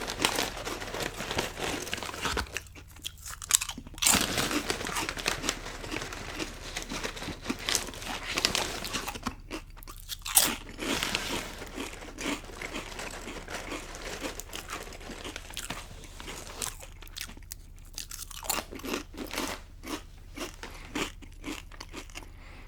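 Cape Cod kettle chips crunch loudly and close up while being eaten, with bursts of crisp crackling and chewing interrupted by short quiet gaps.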